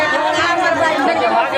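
A dense crowd of wedding guests chatters, overlapping voices packed close and loud without pause.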